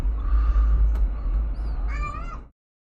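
A cat gives a drawn-out meow near the end, heard over a steady low rumble before the sound cuts off.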